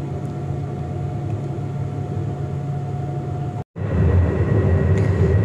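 Interior of a moving tram in Switzerland, a continuous loud low rumble and rolling drone with a brief cut partway, then a heavier rumble, no talking.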